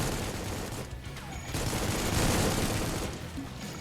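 Continuous gunfire from the Supplice video game, a dense, unbroken volley of rapid shots at a steady, fairly loud level with no pauses.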